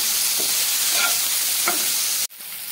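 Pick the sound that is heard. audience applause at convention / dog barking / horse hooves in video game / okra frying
okra frying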